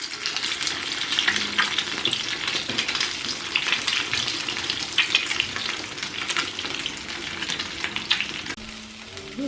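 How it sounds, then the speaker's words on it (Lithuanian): Battered fish cakes crackle continuously in hot oil in a pan, a dense, even sizzle heard up close with occasional stirring scrapes and no voices. "Štai šitaip kepa mūsų žuvelė"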